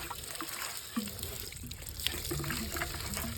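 Tap water running steadily to rinse a farm equipment filter, a continuous trickling wash with faint clatter of the filter being handled, no talk.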